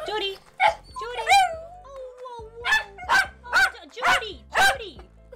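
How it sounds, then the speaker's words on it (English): A dog barks repeatedly at close range, giving a series of sharp, loud barks and yips with whiny, howl-like pitch slides between them. "You are so rude. Don't bark at me, Jordy"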